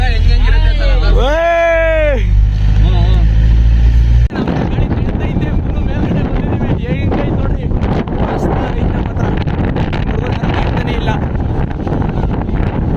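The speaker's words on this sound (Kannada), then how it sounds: "ಫುಲ್ಲು ಗಾಳಿ ಗಾಳಿ ಫುಲ್ಲು ಜಾಸ್ತಿ ಐತೆ" Strong wind buffets the microphone in a constant roaring rush on Mullayanagiri peak, Karnataka, after a brief stretch of voices and a high whining sound at the start.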